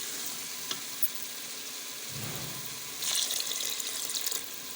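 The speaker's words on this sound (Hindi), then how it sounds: "माश की दाल को हमने पहले से बॉईल नहीं किया हुआ था, इसलिए हम इसमें 1 गिलास पानी का ऐड करेंगे इसको पकाने के लिए।" Water poured from a glass into a pot of uncooked mash dal (urad lentils), giving a brief splashing gush with a soft sizzle over a steady low kitchen hiss.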